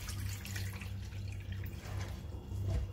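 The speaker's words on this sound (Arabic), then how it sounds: "عم بغسل العدس" Running water rinses lentils held in a strainer over a kitchen sink, a steady close tap stream with light splashing and no talk.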